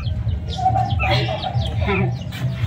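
Chickens cluck in short, scattered bursts close by, mixed with a low background rumble and some human voice activity underneath.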